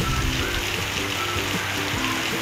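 Steady heavy rain from Typhoon Uwan in Valenzuela City, a dense continuous hiss of drops on surfaces with no pauses, loud and close.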